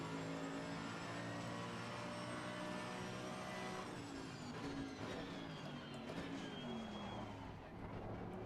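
A race car engine accelerates after a Spa 8-hour race, heard from inside the car as a sustained loud whine that climbs in pitch, briefly dips at a gear change, then rises again.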